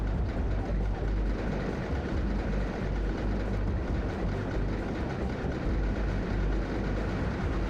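A roller coaster train runs steadily in the RollerCoaster Tycoon video game, giving a continuous loud low rumble and clatter with no talking over it.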